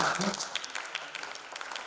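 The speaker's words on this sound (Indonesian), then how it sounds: "Oke, tepuk tangan." A short patter of scattered clapping from an audience, moderately loud at first and thinning out, with some voices mixed in.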